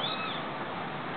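Young kittens about two and a half to three weeks old meow during bottle feeding, a close, steady high-pitched mewing filling the short moment without talk.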